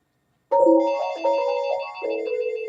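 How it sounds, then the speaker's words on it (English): An office phone on a unified phone system rings with an incoming call, sounding a close, loud electronic chime pattern that starts abruptly after a moment of silence and holds steadily. "We have an incoming call."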